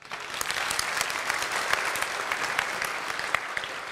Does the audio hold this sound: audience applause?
yes